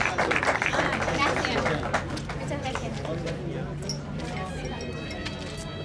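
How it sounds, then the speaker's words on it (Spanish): Crowd applause at a running race awards ceremony, steady clapping from many hands through the whole stretch, with voices and outdoor crowd noise mixed in. "Fuerte ese aplauso."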